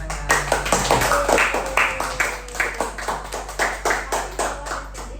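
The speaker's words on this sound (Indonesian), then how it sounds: "Oke, kasih tepuk tangan." A classroom of students claps after a presentation, a short burst of hand claps that settles into a slower, fairly even rhythm of individual claps before fading, heard close up.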